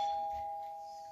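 A doorbell chime rings once as a steady sustained tone, clear and fairly close, fading slowly in a quiet room with no talking.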